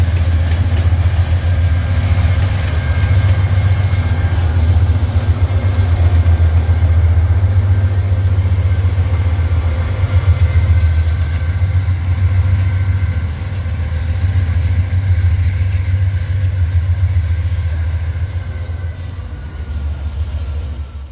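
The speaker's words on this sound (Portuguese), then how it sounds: "Locomotiva Dash 9, motorzão com motor FDL 16 cilindros. A danada chegando aí, galera." A Dash 9 diesel locomotive with a 16-cylinder FDL engine arrives, its deep, loud rumble holding steady throughout and easing slightly near the end, with no talking.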